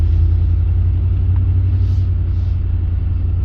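A car driving over a bumpy, snowy road gives a loud, steady low rumble of engine and tyres throughout, close up, with no talk.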